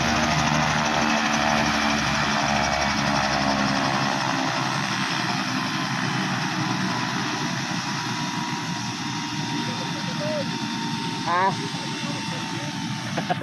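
A helicopter's engine and rotor drone steadily at moderate distance, a continuous mechanical hum with background noise.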